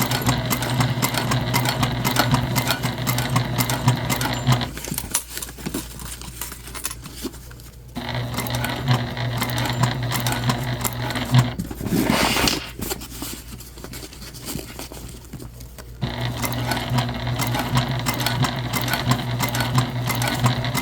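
A sewing machine runs the final seam of a convertible bag, a loud steady mechanical whir with a pause in the middle and a brief clunk before stitching resumes at full speed.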